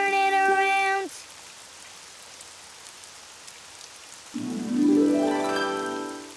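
Steady rain falls outside as a soft, even hiss that continues throughout, between bursts of tonal musical notes at the start and end.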